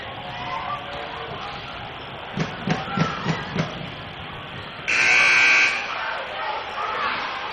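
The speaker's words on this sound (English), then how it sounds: "We had a buzzer right in the middle of the play." A loud, flat electronic buzzer blares for about half a second during a girls' varsity basketball game, cutting over gym noise, ball bounces and squeaks on the court.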